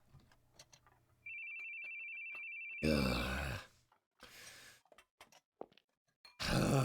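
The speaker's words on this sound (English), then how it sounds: "You need to put your phone on silent" A phone rings with a steady electronic tone lasting about one and a half seconds. Grunts, sighs and voices follow it in a game setting.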